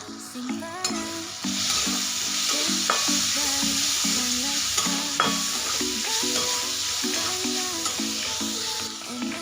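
Onion and tomato sautéing in a pan with red chilli powder and garam masala, a steady close sizzle with rhythmic scraping stirs and some faint tonal squeaks underneath.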